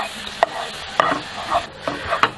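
Coca-Cola reduced to a thick syrup is stirred and pushed around a non-stick pan. A spatula scrapes in several distinct strokes over a low sizzle, close and clear with no talk.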